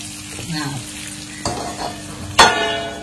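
Fish fries in a pan with a steady close sizzle under a village-style cooking setup, broken by a couple of stirring scrapes and a sharp metallic clank as the lid is set on top.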